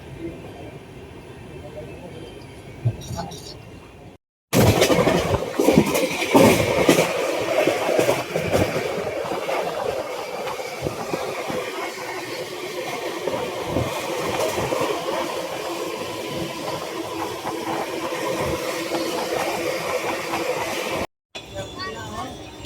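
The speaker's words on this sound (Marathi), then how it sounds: "चला मग तर ट्रेन चालू झालेली आहे" A train rolls along steadily with a continuous rumble and rattling, loud and close, for most of the stretch, with quieter moments at the start and end.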